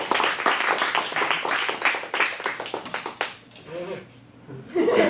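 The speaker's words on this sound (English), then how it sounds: "Let's get a round of applause." A small group claps briskly in an adult improv class at an acting studio in Phoenix, close and uneven, for about three seconds before the clapping fades and people start talking.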